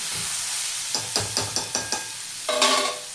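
Onion and tomato chutney is stirred in a pan, a soft sizzle under a rhythmic series of five or six spoon scrapes, then a brighter hiss swelling near the end, close and without talk.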